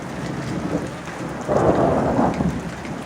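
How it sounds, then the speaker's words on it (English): Thunder rolls and rumbles through a steady rainstorm, the low boom swelling partway through over the constant hiss of falling rain, with no voices. "Thunder show."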